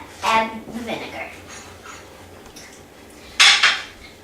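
Sugar and vinegar being stirred in a pot, metal spoon clinks and scrapes against the pot in a few bursts, with a voice speaking at moments.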